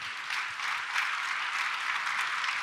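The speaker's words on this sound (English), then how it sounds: "A big applause" Audience clapping for speakers at an aerospace composites conference, a brief, even burst of applause lasting under three seconds.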